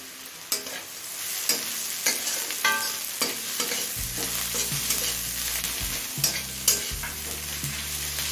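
Whole garam masala of cardamom, cinnamon and cloves fried with browned onions in a pan for chicken ghugni, a steady close sizzle broken by sharp clinks and scrapes of stirring, no one talking.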